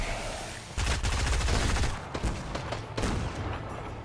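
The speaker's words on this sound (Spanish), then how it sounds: "No sé de dónde nos están disparando, pero hay más." Rapid bursts of gunfire in the video game Fortnite, a dense fusillade of overlapping shots that swells loud after the first second and keeps crackling with scattered single reports.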